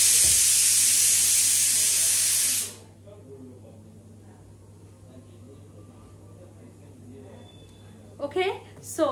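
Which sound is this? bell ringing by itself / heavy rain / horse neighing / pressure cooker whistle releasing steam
pressure cooker whistle releasing steam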